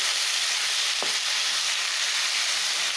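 Pirandai (veld grape stems) with turmeric powder sautés in a pan, a steady broadband hiss of frying that holds evenly throughout, with one brief knock or scrape near the start and no speech.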